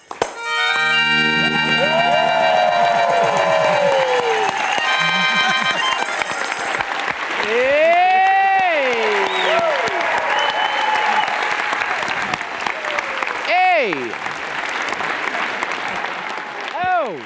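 An audience claps along at a performance, dense hand-clapping under loud singing and shouted call-outs, with voices sweeping up and down over the steady applause.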